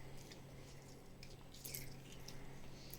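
Hands rub pabda fish with lemon juice and mustard oil, giving soft, faint wet squishes and squelches in an irregular rhythm, close up and quiet.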